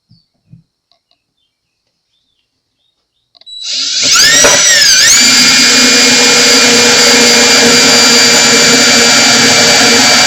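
After near silence, a loud power drill whirs up and holds a steady, high-pitched grinding drone, boring into the wood of a Taylor 310 CE acoustic guitar beneath the saddle.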